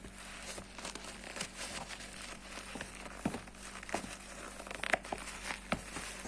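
Faint crinkling and rustling of paper stuffed inside a Nike Fly By Mid basketball sneaker, soft irregular crackles close by with a few sharper crunches.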